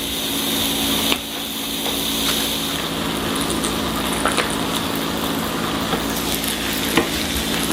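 Paninis sizzle as they cook, a steady, dense hiss of frying held close throughout with a few faint clicks, and no talking.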